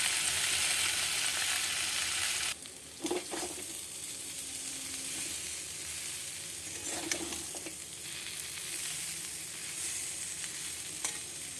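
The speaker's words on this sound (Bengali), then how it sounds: "বেসন মশলা সব একসঙ্গে ভালো করে ভেজে নিতে হবে।" Potato and capsicum fry with ground spices in a pan, giving a steady loud sizzle with a few brief stirring scrapes and no voices.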